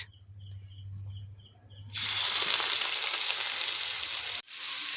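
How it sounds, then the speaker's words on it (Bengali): Onions for a vegetable momo filling tipped into hot oil, with a quiet hum that suddenly bursts into a loud, close, steady sizzle. The sizzle cuts out for an instant, then carries on. "তেলটা গরম হয়ে গেছে, এবার আমরা দিয়ে দেব পেঁয়াজ"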